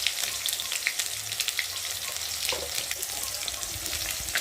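Cumin seeds fry and sizzle steadily in hot oil, a close, continuous crackling hiss with scattered pops throughout, no voices.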